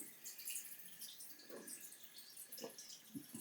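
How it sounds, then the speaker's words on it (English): Tap water in London runs and splashes faintly into a glass or sink, soft watery trickling with a few brief spattering bursts, quiet and close. "testing out London tap water for the first time."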